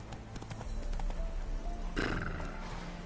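A horse gallops in The Witcher 3, rapid hoofbeats drumming close and steady, with a short whinny near the end.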